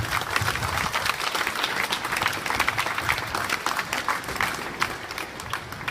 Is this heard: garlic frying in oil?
no